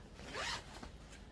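A backpack compartment zipper pulled once in a quick, close rasping sweep lasting under a second, quiet and alone.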